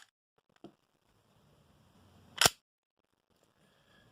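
A single sharp pop from a Guarder Glock airsoft pistol firing a BB, one loud near shot in otherwise quiet surroundings with faint handling noises before it.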